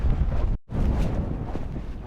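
Strong, cold wind on ice while ice fishing buffets the microphone in a steady, low rumbling roar, broken by a brief moment of silence near the start.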